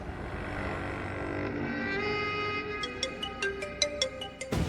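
A mobile phone rings unanswered indoors: a sustained electronic ringtone melody gives way to a rhythm of short, bright repeating beeps, moderately loud, with no voices.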